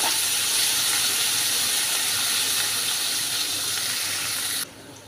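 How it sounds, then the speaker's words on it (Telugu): Two large chopped onions frying in hot oil: a loud, dense, continuous sizzle and hiss close by, holding steady before cutting off abruptly near the end. "ఒక 2 ఉల్లిపాయలు పెద్ద సైజువి ఇలా వేసేసుకోవాలి. ఇవి బాగా ఎర్రగా వేయించుకోవాలి."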